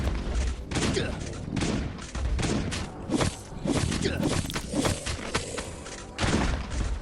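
Shotgun blasts in the survival video game Last Day on Earth, fired in a boss room, with heavy repeated booms and thuds throughout and a voice talking faintly between shots.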